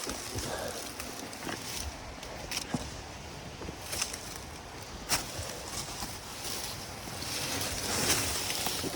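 Ocean waves wash against rocky shore near a sea cave, a steady broadband roar with occasional sharper splashes and gusts of wind buffeting the microphone, swelling louder toward the end.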